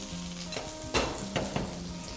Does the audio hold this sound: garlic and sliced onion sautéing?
yes